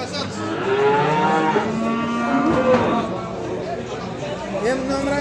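Calves and cattle moo repeatedly at a livestock market in Beylagan, Azerbaijan, with long drawn-out lowing calls up close over a busy crowd murmur and men chatting.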